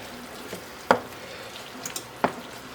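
Kashmiri chili powder, garam masala and salt cook in mustard oil in a pan, a soft, low sizzle up close with two sharp spatula scrapes and a few faint taps.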